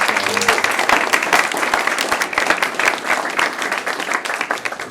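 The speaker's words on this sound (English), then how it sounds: "Please give him another round of applause." Sustained audience applause fills a talk venue, many hands clapping densely and steadily at a fairly loud level throughout, with no speech over it.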